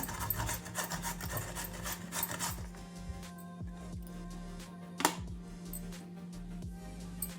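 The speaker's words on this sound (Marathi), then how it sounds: "थोडं बीटरूट आहे ना, थोडं हे पण किसून घ्यायचं" Beetroot being grated by hand in a home kitchen gives a faint, repeated rasping scrape in uneven strokes, with a steady low hum behind it.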